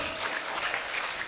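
Applause from a school audience at a debate competition prize announcement, honoring the second-place winner; a steady, fairly soft patter of many hands clapping throughout, with no voices.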